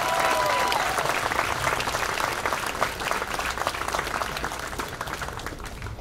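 Audience applause fills a commencement ceremony hall, a steady dense wash of many hands clapping at even loudness for about six seconds, fading slightly at the end.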